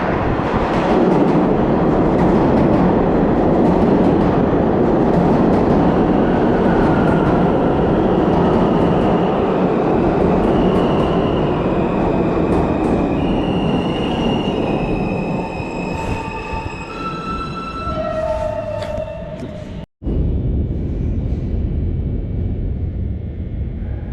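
A New York City subway M train rumbles loudly through a tunnel, wheels screeching in rising metallic squeals as it slows, then a brief cut before the roar continues.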